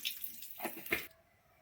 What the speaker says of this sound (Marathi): तेलामध्ये चांगलं फ्राय करून घेतल्यानंतर आपण पाणी ओतून घेणार आहोत